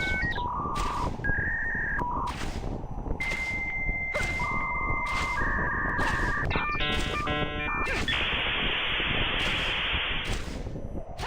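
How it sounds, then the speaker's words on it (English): Dial-up modem connecting: a loud, continuous run of steady tones, shifting beeps and warbling handshake squeals that ends in a bright hiss of static, with no talking over it. "Like, that dial-up sound, people don't know."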